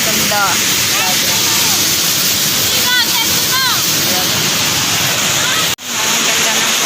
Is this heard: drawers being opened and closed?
no